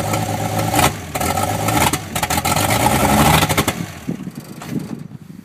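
A demolition derby car engine, run just after a cold start, revs roughly in several loud close bursts, sputtering and uneven, then drops back toward a rough idle.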